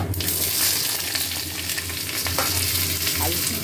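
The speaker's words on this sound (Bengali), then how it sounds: "এবার মশলার সঙ্গে আলুটা ভাজা হবে" Potatoes frying with spices in hot oil in a wok give a loud, steady, close sizzle, with a continuous crackling hiss broken by occasional stirring scrapes.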